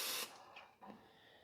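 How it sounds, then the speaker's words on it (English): Non-stick cooking spray hisses from an aerosol can into a baking dish for blueberry bars. One loud burst lasts about a quarter second and a fainter short spritz follows soon after, with no voices. "I want to spray it with this non-stick cooking spray"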